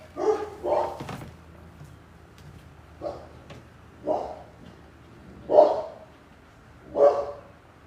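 A dog barks indoors in a home, about six separate deep woofs spaced irregularly, close and loud, with a brief thump early on and no speech.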